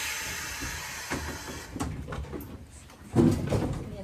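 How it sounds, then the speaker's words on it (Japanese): The door of the retro Yakuri cable car, which has run for 60 years through rural mountain forest, opens with a low rumbling slide and a soft thud under steady hum and faint background noise. "ドア開きます。"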